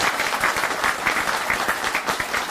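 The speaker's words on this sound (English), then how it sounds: "Round of applause for them." Audience applause at a grand opening ceremony attended by state governors, a dense steady wash of many hands clapping, close and sustained throughout without talk.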